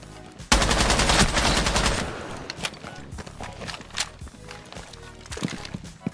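A loud burst of rapid automatic gunfire from a first-person shooter game, lasting about a second and a half and then fading into scattered shots, footsteps and game noise.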